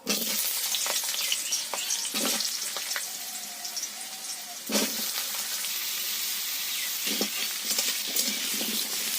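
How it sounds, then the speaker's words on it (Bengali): Cut potatoes fry in hot mustard oil in a heated kadai, giving a steady close sizzle broken by occasional scraping stir strokes, with no talking. "আলুগুলো ভালো করে ভেজে নেব"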